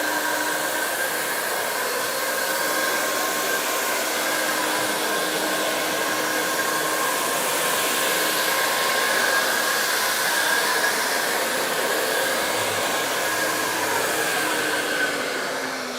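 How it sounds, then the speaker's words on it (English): An i-mop walk-behind floor scrubber running, a steady high motor whine with a constant airy roar, close and unbroken throughout, with no talk. "once I activate the trigger, the machine comes up and I can start working."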